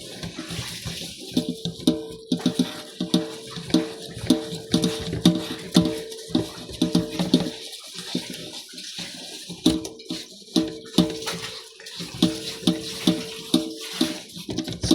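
Water running into a basin to soak a motorcycle helmet before washing, with a steady splashing flow broken by repeated rhythmic sloshes and knocks, close by and fairly loud.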